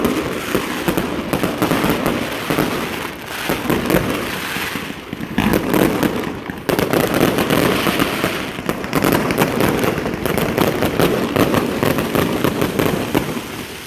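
Fireworks boom and crackle continuously across a large outdoor football crowd scene, dense overlapping bangs with a roaring background wash, loud and sustained.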